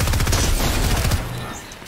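Loud rapid gunshots in the video game Apex Legends, a quick burst of several shots filling under two seconds before trailing off.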